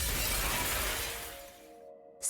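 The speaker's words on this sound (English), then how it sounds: "Dorothy picks up another bottle and shatters it on the floor." A glass bottle shatters on the floor in a video game: a loud, close crash of breaking glass that fades into a tinkling tail, followed by a brief new sound at the end.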